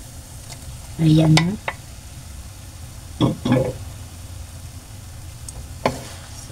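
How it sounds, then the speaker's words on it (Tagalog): Fried eggplant being stirred together with sautéed shrimp paste in a pan, with soft scraping and a low sizzle beneath a few short bursts of speech. "So ihalo na po natin."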